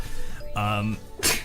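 A single sneeze bursts out near the end, sharp and fairly close, after a short sung or hummed tone and some background voice.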